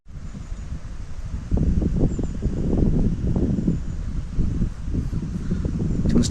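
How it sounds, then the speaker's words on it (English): A breeze rustles through leaves along a woodland hiking path, a steady soft hiss that swells partway through, with scattered crackles and gusts against the microphone. "First breeze of the day."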